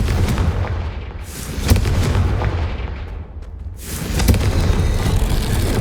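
Confringo, a fire spell, is cast in Hogwarts Legacy and sets off heavy booming blasts, loud and close. A rumbling, crackling explosion sequence swells and fades, then flares again toward the end, with no voices.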